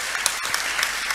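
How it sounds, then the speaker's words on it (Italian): A short burst of dense applause from a crowd, steady and fairly loud throughout. "se volete fare un applauso"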